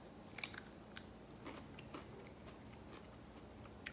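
Crunchy refrigerator-pickled garlic clove being bitten and chewed up close, a few sharp crisp crunches early on, then quieter intermittent chewing clicks over a steady faint background.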